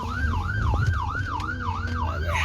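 An ambulance siren wails loud and close in a steady rising-and-falling cycle, repeating about every half second over low traffic rumble.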